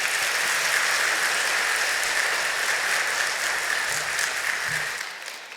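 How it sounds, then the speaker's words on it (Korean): A church congregation at a Sunday service applauds to welcome a pastor, a dense, steady wash of clapping from many hands that fades out near the end. "함께 뉴송의 큰 박수로 환영해 주시면 감사하겠습니다"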